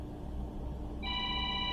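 A phone rings in a home kitchen during macaron baking, a bright electronic ringtone cutting in partway through over a steady low room hum, near and clear, with no talk.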